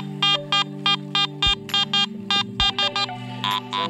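A Garrett AT Max metal detector giving a good target signal, a series of short, evenly spaced electronic beeps repeating rapidly over a low steady hum.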